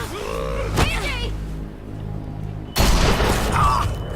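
Gunfire bursts out in a tense zombie survival video game scene, a sharp loud blast followed by a dense crackling burst, with game sounds and dialogue around it.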